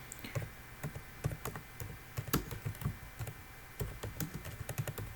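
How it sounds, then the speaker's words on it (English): Rapid, uneven clacking of fingers typing on a computer keyboard, close and clear, with irregular bursts of keystrokes and no voices. "So I'm typing because of the experience."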